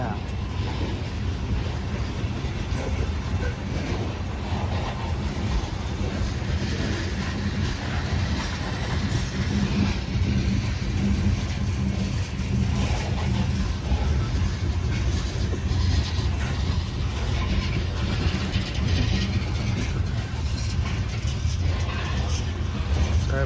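A loaded CSX coal freight train rolls past with a continuous heavy rumble and clatter of wagons as it slows, loud and close, with wind noise over the top.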